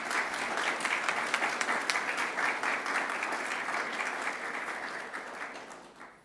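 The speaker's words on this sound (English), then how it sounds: "Can we get a round of applause for all our sports captains" A school assembly audience claps for its sports captains, a dense, even round of applause that holds steady and then fades away toward the end.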